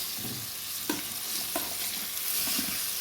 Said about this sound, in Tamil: எண்ணெய் காய்ஞ்சிட்டு கலாக்காய் போட்டுக்கலாம்